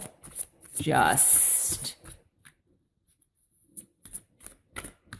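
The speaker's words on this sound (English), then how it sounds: "let's cut the cards here" A deck of tarot cards being cut and shuffled by hand, a bright papery riffle lasting about a second, then quieter soft card taps, with a voice speaking briefly.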